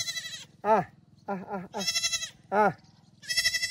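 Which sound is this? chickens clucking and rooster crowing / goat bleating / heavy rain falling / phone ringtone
goat bleating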